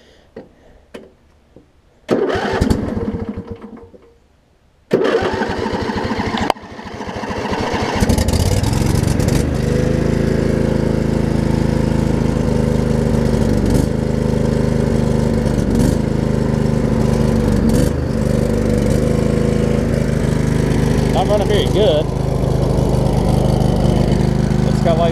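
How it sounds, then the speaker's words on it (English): A Craftsman V-twin riding mower engine cranks briefly, catches and starts, then settles into a steady, loud, close-up running drone that continues without a break. "let me crank it up, and that way y'all can at least hear it run."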